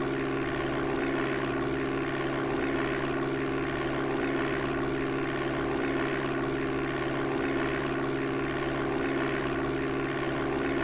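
Constant droning propeller airplane engine from the Amiga flight game Flight Simulator II, a steady loud hum with layered tones that holds unchanged throughout, with no voices.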